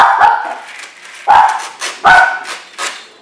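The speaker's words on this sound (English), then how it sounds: "this is little doggy Varzu." A small dog barks sharply at someone at the door, four or five loud, close yaps in an uneven rhythm with short gaps between them, heard alone without talk.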